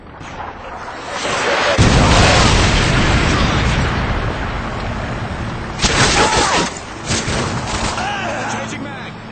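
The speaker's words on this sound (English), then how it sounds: "Friendly predator missile incoming." Loud predator missile explosion in a Modern Warfare 2 domination match: a sudden heavy boom rolling into a long rumbling roar, followed by further blasts and gunfire bursts, with game voices calling out under the noise.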